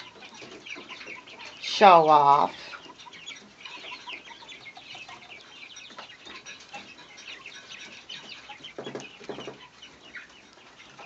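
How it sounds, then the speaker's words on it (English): A rooster crows once on a farm during chores, a loud harmonic call standing out briefly above scattered clucking and a background of hens, with people talking nearby afterward. "They crow to get the females into breeding mode"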